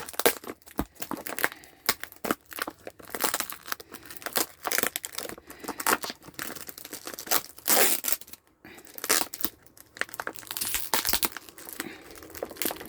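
Plastic packaging around a wedge pillow being torn open, with near, loud crinkling and ripping in repeated bursts and brief pauses throughout, no voices.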